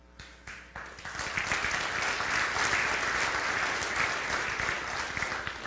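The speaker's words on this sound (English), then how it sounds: "you're going to be clapping for a while" Audience at a prison programming event breaks into applause, a few separate claps at first, then sustained dense crowd clapping that holds steady to the end.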